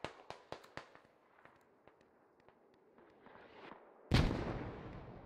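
Mortar rounds and distant firing in a military shooter game, with a string of sharp cracks and thumps early on, scattered faint pops, then a heavy close blast that rumbles out.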